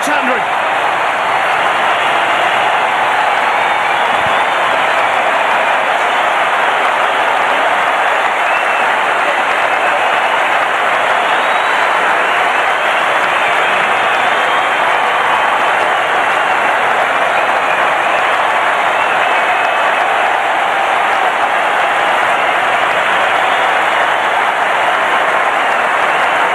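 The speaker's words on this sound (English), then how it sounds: "special cheers really from the MCG crowd" A large Melbourne Cricket Ground crowd at a Boxing Day Test applauds and cheers Ricky Ponting's century, a sustained dense roar of clapping from a distance that carries on without letting up.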